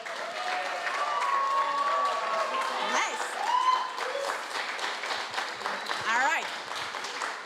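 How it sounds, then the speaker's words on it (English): An audience at a university hackathon event in Prague applauds the game winner, steady clapping from a crowd throughout, with people talking and whooping over it close by. "So I want a big round of applause for, you did not write your own name, for Kate."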